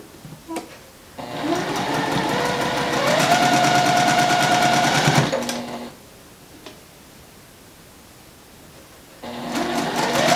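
A sewing machine stitches quilt fabric in two runs, a fast rattling chatter for a few seconds, a pause with quiet clicks, then starting up again, close and clear.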